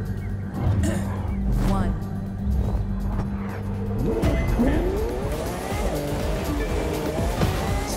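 Car drifting in the racing video game The Crew 2, with sustained engine roar and squealing tires sliding through a turn, heard over ongoing game voice announcements and talk.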